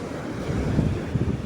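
Waves washing on the shore at Star Beach, Pondicherry, with gusty wind rumbling across the microphone, a steady low surge.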